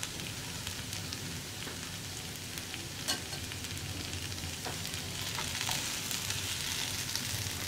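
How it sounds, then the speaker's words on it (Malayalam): Chicken fries in melting butter on a tawa as it is stirred: a constant, close crackling sizzle with occasional scraping and light knocks from the spatula, and no voices. "ബട്ടർ ചേർത്തിട്ടൊന്ന് മിക്സ് ചെയ്യുക."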